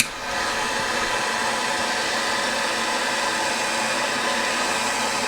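Heat gun warming a stud on a two-stroke engine, a loud, steady blowing whir that starts abruptly and holds constant, close and alone without talk.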